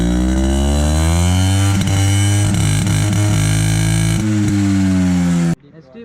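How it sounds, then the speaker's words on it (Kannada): A vintage Yezdi 250D motorcycle with a 250cc single-cylinder engine idles loudly and close up with a deep, steady thump, a few throttle blips in the middle, then cuts off abruptly just before the end. "ಬ್ರೋ ಯಾವ್ದು ಬ್ರೋ ಇದು ಬೈಕು ಇಷ್ಟೊಂದು ಸೌಂಡ್ ಮಾಡ್ತಾ ಐತೆ?"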